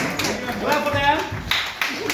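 A classroom group clapping for people taking their seats, a few quick claps with a burst near the end, under an ongoing spoken voice.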